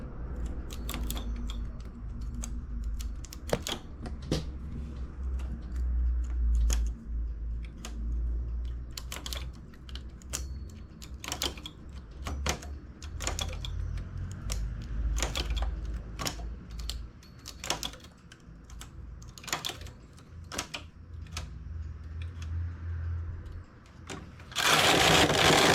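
A domestic knitting machine carriage sliding back and forth across the needle bed, knitting rows for a 3x2 rib border. Repeated sharp clattering passes and clicks stand over a low hum, with a loud burst at the very end.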